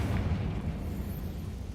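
A fire-spell blast in Hogwarts Legacy goes off as a steady, rumbling low-end burst, with a sustained roar that holds for about two seconds at moderate loudness and no voices.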